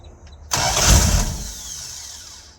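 A car engine fitted with a new carburetor cold-starts: quiet, then a sudden loud burst of cranking and catching that peaks within a second and fades into a rough, settling run, close and alone.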